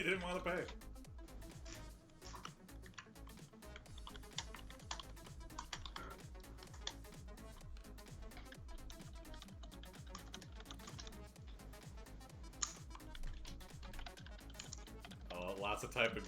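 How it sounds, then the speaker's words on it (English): Rapid clicking keystrokes on a computer keyboard run steadily beneath people talking, with busy, dense typing that continues the whole time. "Oh, lots of typing going on."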